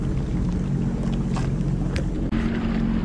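A Sea-Doo FishPro personal watercraft runs 35 miles offshore, its engine a steady loud drone under rushing wind and spray, with splashing hull slaps and brief wave hits.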